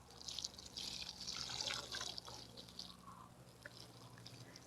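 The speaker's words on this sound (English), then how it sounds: "So now I'm just going to water them in." Collected rainwater poured from a container onto freshly planted onion sets in garden soil, a soft steady splashing and trickling that swells briefly and then eases, heard alone.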